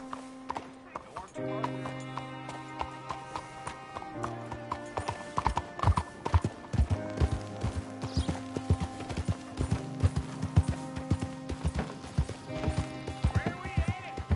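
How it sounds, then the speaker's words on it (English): Horse hooves gallop in Red Dead Redemption 2 on PS4, a steady, quick clip-clop rhythm that runs for most of the passage under music and spoken dialogue. "You got a horse? Get on it. Follow me."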